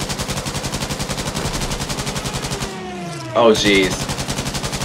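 Mounted gun fire in Battlefield V rattles in a fast, regular stream of loud shots, breaking off briefly while a player exclaims, then resuming.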